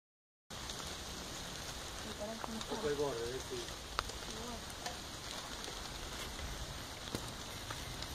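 Steady rain falling during carp fishing outdoors, a constant close hiss and patter throughout, with people speaking faintly in the middle.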